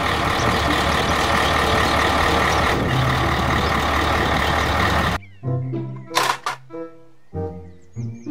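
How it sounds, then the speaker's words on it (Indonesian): A toy dump truck gives a loud, rumbling engine-like roar that runs steadily for about five seconds, then cuts off abruptly into short, tonal, voice-like bursts with gaps between them. "Mobil dump truck."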